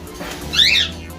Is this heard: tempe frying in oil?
no